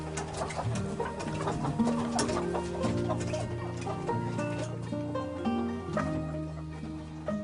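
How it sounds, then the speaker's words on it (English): Hens cluck and murmur softly as they settle in to roost, several overlapping calls at close range, with a few brief tonal notes standing out. "The hens are turning in now, all going home to roost."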